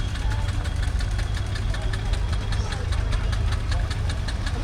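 A miniature steam engine at a Sussex steam rally at Parham Park runs with a steady, close rhythmic chuffing and mechanical knocking, loud and continuous, mixed with a low rumble.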